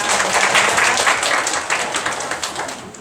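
A church congregation applauding during a Sunday afternoon worship service, steady dense clapping throughout at moderate level, with no voices rising above it.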